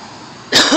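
A single sharp cough in smoky, hazy air near a fire department communications trailer, sudden and close after a quiet stretch of faint background hum.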